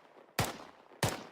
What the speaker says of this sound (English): So that's grenade launchers.